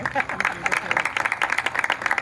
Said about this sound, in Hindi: भाई पोमी के लिए जोरदार तालियां।